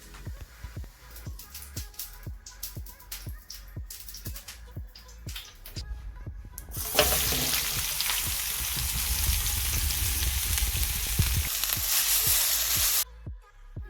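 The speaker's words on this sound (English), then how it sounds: "In a large pan, add the peppers." Peppers are added to a large pan while making homemade tacos. About six seconds of light rhythmic tapping comes first, then a loud, sustained sizzling roar bursts in and holds before cutting off abruptly.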